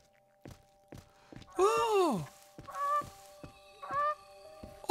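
A goose in the survival video game The Forest gives a long, loud, wavering honk followed by two shorter honks, interspersed with dull thunks and footsteps in an otherwise quiet setting.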